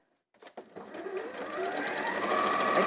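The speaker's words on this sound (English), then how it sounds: "let's sew this down here." A sewing machine starts with a few slow stitches, then speeds up into a steady, rapid mechanical whir as it stitches close to the edge of fabric.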